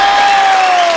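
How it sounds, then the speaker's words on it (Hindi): A studio audience at a comedy talk show claps and cheers loudly in one continuous, dense burst of applause that fills the whole second. "सो प्लीज आप सबकी जोरदार तालियों के बीच इनवाइट करना चाहूंगा the very beautiful Shilpa Shetty."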